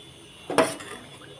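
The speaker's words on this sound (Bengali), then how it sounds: "এখানে ডাল হয়ে গেছে দাঁড়াও একটু নেড়ে দেখিয়ে দিই" A brief metallic scrape and clatter of a spoon stirring cooked masoor lentils in a pot, a single short burst in an otherwise quiet room.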